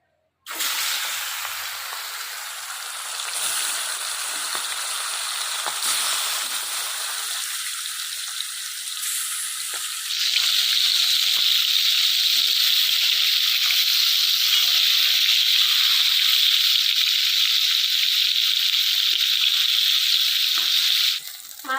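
Shol fish (snakehead) frying in oil in a hot wok, a steady loud crackling sizzle that swells sharply after the fish goes in and holds strong to the end, with faint handling clatter beneath.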